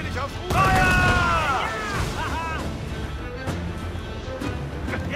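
Booming ship cannon blasts from the game Assassin's Creed IV: Black Flag, several heavy shots with crashing impacts, under a busy background mix with faint German voices.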